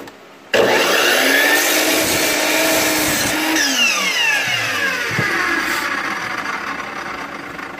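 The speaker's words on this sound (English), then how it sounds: "out of this piece of red oak, slice off a hunk of it" A piece of red oak stock, clamped to a workbench, is sawn through after a brief quiet start. The steady, close, grinding cut shifts in pitch as the blade works through the wood.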